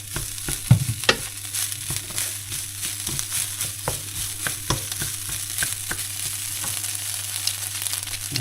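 Food fries steadily in a pan while a utensil stirs and scrapes it, giving a constant close sizzle with irregular clicks and taps and no talk.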